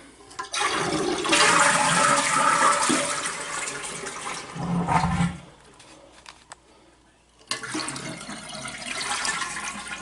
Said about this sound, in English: Now the next thing to do is to flush the toilet.